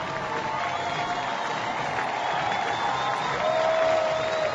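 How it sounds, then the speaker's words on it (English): A big baseball crowd at Canal Park gives a standing ovation for a RubberDucks no-hitter: dense, steady applause and cheering fill the whole stretch, holding loud and even and swelling slightly toward the end. "He gets a standing ovation from this big crowd at Canal Park"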